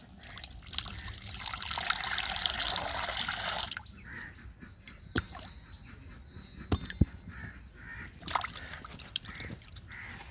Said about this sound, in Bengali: তো সবজিগুলো প্রথমে জলে ধুয়ে নেব।